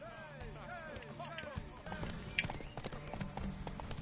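Horse hooves clip-clop on ground in the video game Witcher 3, a faint, steady patter of steps under a voice and other game sounds, with a whinny-like tone early on.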